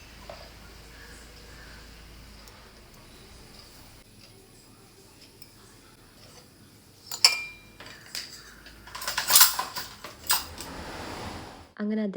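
Dried, washed dishes being put away in a home kitchen in the early morning: scattered clinks and knocks of plates and utensils, quiet at first, then a busier cluster of sharper clatters near the end.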